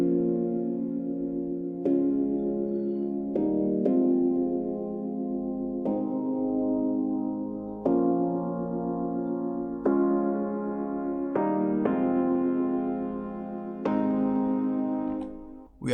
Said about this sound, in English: We are basically just automating the cutoff here.